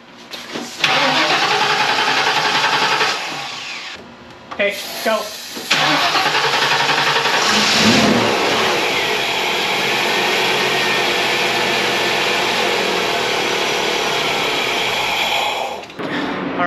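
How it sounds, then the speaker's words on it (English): A 1994 Ford Mustang GT engine cranks a few times after a fuel pump replacement, catches, and roars into a loud rev before settling into a steady running drone; a voice speaks briefly beforehand. "gonna try to start the Mustang"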